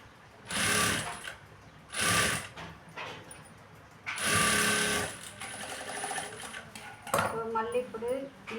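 A sewing machine top-stitching a beginner's size 40 blouse, several short close bursts of fast whirring stitching separated by pauses, with someone talking in between.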